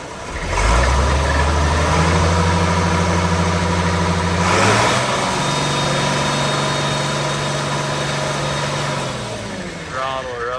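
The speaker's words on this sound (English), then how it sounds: "Throttle her up there, let it hear it kind of run there." A 1975 International 1466 tractor diesel runs close by, loud and rumbling, revving up and holding a higher throttle before settling back down near the end.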